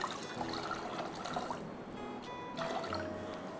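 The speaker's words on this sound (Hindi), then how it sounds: "अब इसमें मैं डाल रही हूँ पानी" Water, about two to two and a half cups, pours into a cooking pot for Hyderabadi haleem: a steady, fairly close splashing trickle lasting a few seconds with no talking over it.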